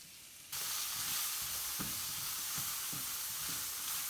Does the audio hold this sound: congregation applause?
no